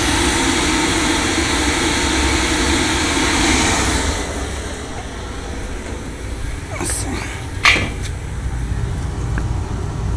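A boiler burner roars steadily at close range during a trial for ignition after the burners were cleaned, then drops to a quieter rumble broken by a few sharp clicks.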